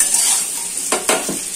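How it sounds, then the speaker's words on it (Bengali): Taro pieces frying in a pan while being stirred, a loud close hiss with two or three quick scraping strokes of the utensil near the end, no voices. "কচুগুলো যেমন নর্মাল কচু ভাজা করে সেরকম ভেজে নেবে"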